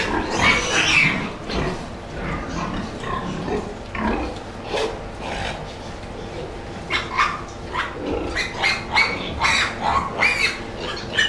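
Thirty-day-old piglets and sows eating feed on a pig farm: a steady mix of chomping, rustling and snuffling, with sharp bursts of grunts and squeals toward the end.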